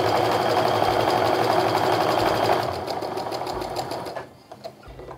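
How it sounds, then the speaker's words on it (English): A sewing machine chain piecing quilt fabric pieces runs in a fast, steady mechanical whir with rhythmic needle clatter, then slows and stops into a few sparse clicks, close and clear with no talking. "I lift up the press foot a little bit and slide the next piece down and keep on sewing"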